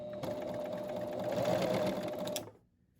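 A serger sewing machine runs steadily for about two and a half seconds as it stitches binding onto a T-shirt neckline, with a fast, even whir, and then stops abruptly into near silence.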